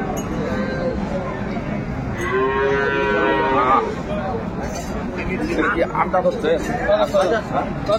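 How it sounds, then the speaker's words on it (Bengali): Dairy cows and calves low out in repeated drawn-out moos at the crowded Aftabganj cattle market in Dinajpur, close and loud over a constant murmur of bargaining voices and scattered clinks. "সুন্দর গাভী বাছুর।"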